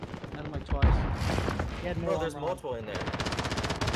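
Rapid gunfire in Call of Duty: Warzone rattles in bursts, ending in a fast, evenly spaced automatic string, while a player talks over it.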